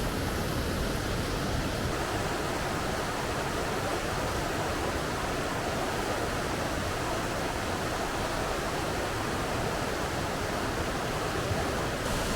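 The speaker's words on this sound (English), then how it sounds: "And here is Mouse Creek Falls." Mouse Creek Falls on the Big Creek Trail in the Great Smoky Mountains, a steady, loud, close rush of falling water that stays constant throughout and has no voices over it.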